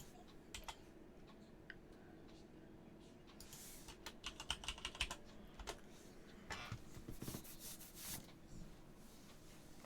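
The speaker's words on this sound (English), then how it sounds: "I'm just typing to Jackie what's going on." Typing on a computer keyboard, quiet steady key clicks that pick up into denser bursts toward the middle, set against faint room noise with no talking.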